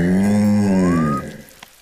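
A cartoon cow from the animated show Ben and Holly's Little Kingdom gives a single drawn-out, low, loud moo that bends upward into a thin rising squeak before fading.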